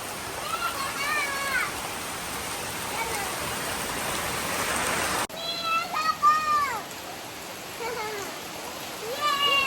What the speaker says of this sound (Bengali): দেখুন খালি কি বৃষ্টি